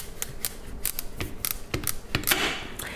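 A knife cutting through a tough squash on a board for fall soup, with a quick run of crisp, crunchy snaps and clicks, close and fairly loud, with no speech.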